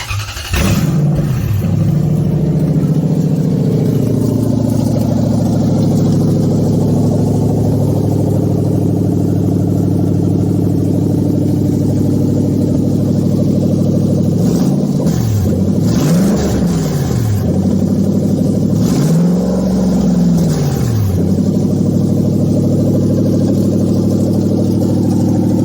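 A Toyota 1UZ-FE V8 engine on a bare run stand with no cooling system cranks, fires and settles into a loud, steady idle, then revs up and falls back twice in clear swells near the end.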